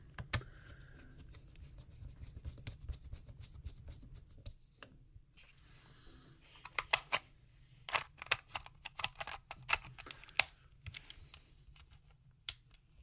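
A small screwdriver drives a case screw into a video game console shell, producing a low hum followed by a run of faint, rapid clicks and ticks, close and quiet with no speech.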